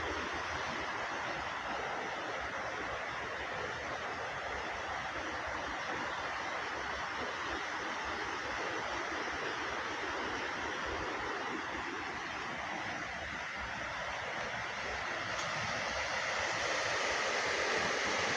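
Waterfall in the Ain in autumn: a steady, dense roar of falling water, broadband and unbroken throughout, close and loud with no voices.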